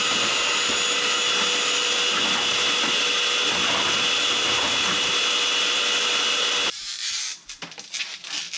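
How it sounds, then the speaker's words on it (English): Vacuum cleaner cleaning a porch floor, a steady loud whining motor hum running for several seconds, then cutting off into quieter scraping and clatter. "Now that that is all vacuumed and cleaned"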